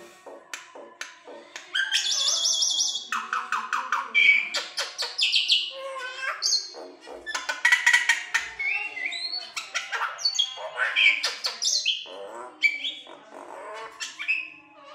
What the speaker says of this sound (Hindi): ये दूसरी मैना है